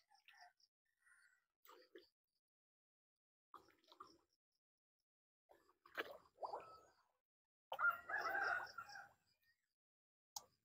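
Chickens walk along a rice paddy dike on a Philippine farm, giving scattered soft clucks and short calls in brief bursts separated by quiet gaps, with a louder cluster of clucking near the end.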